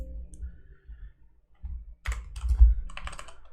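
Computer keyboard keys pressed in a quick cluster for a Ctrl+V paste, a few sharp close clicks following near-silence, with no voices.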